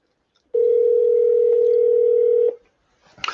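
A steady telephone dial tone sounds loudly and clearly for about two seconds, then cuts off, followed by a brief click as a call is placed.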